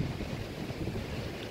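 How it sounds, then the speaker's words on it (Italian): Wind gusting through stormy, rainy weather, a steady broadband rush with low rumbling buffets on the microphone, continuous and fairly loud throughout, with no voices. "piove e tira vento."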